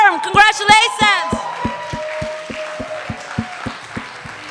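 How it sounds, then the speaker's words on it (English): Audience applause for a team at an evening awards event, scattered clapping under a voice speaking over a microphone at the start, then thinning to a few slow, evenly spaced claps. "So one more applause for Team Inform."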